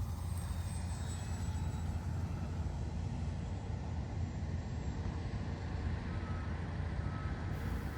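An E-flite Micro Scrappy 800mm RC bush plane motor in flight, a steady whining buzz held at a constant level, with wind-like noise and no talking.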